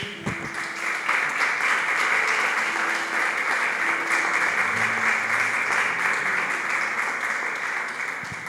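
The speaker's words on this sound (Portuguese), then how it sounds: "você pode dar uma salva de palmas para Ele?" Steady applause from a large church congregation during a sermon, loud and sustained throughout, with a few faint voices underneath.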